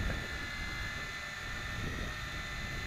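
A Tarantula X6 drone flies nearby and climbs, its rotors giving off a steady, continuous buzzing whine with layered high-pitched tones over a rumbling, wind-buffeted low end, without pause.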